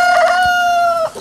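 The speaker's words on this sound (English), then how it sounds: "it's a chicken!" A Brahma chicken gives a single loud, close, sustained squawking call lasting about a second, alone with no talk.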